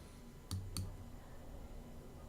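Two quick, crisp mouse clicks close together, faint and close up, in a quiet room during work in RStudio.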